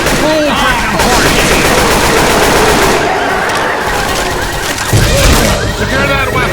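Rapid automatic gunfire and shooting bursts from a video game play loudly and continuously, with voices shouting briefly over the din.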